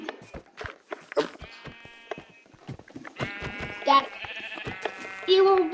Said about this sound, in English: I'm gonna kill the sheep.